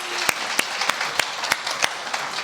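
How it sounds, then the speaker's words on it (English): Audience applause at a pitch event, sparse and thin with a handful of distinct claps landing in a steady rhythm over faint background room noise. "A big round of applause again for Tracy Prigmore,"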